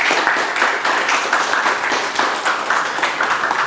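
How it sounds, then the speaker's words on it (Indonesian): A classroom of students applauds a classmate with steady, lively clapping from many hands, close and continuous for a few seconds. "beri tepuk tangan kepada Mbak Aisyah"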